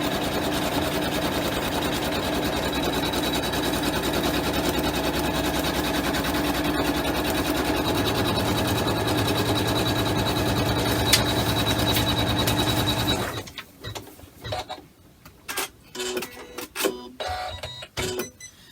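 An embroidery machine stitching a quilted basket with foam inside, a fast, steady mechanical whirring and rattle that runs loud and continuous, then stops, leaving softer clicks and handling knocks.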